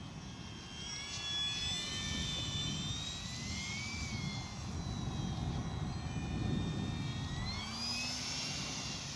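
An electric Staufenbiel L-13 Blanik foam RC glider, 1.5 m span, flies low under power, its motor whining steadily with rising and falling pitch as it manoeuvres over a constant outdoor rumble.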